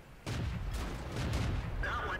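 In the World of Tanks video game, a tank cannon shot bounces off armor with a sudden heavy boom that rings on, followed by further rumbling impacts, while a voice talks over the action.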